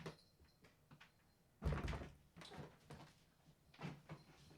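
A door thuds open, followed by a few softer knocks and shuffles, then another muted bump as it swings shut nearby.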